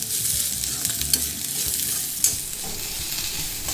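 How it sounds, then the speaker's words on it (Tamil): Chayote (chow chow) peel sautéing in a pan gives a steady, close sizzle and frying hiss, broken by a few light scrapes of stirring, with no talk over it. "இந்த சௌ சௌ தோல் வந்து நல்லா வதங்கிடுத்து"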